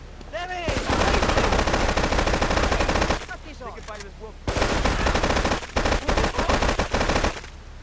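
Sustained bursts of AK rifle fire in GTA Definitive Edition, long loud rapid automatic volleys with a brief pause in the middle and short gaps near the end.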